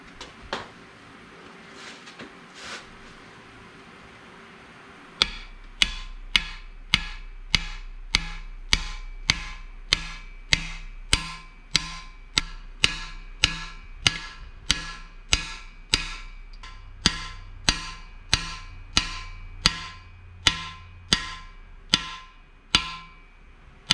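Sharp metallic hammer blows drive a cam bearing into a Mopar 360 engine block in a steady rhythm, about two dozen evenly spaced hits, loud and close, after a few seconds of quieter rustling.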